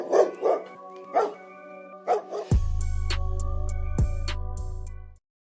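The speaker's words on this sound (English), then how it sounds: "I got my dog Johnny here with me" A dog barks in a few short bursts close by, followed by a loud sustained tone with sharp clicks that fills the rest of the moment before cutting off.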